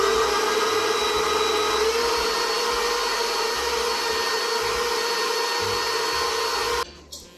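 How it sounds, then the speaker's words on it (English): An electric mixer whisks egg whites and sugar into pavlova meringue, giving a loud, steady, close motor whir with a faint rhythmic beater churn that cuts off near the end. "Don't add it all at once, and then whisk it, and then it will become really super smooth and thick and creamy."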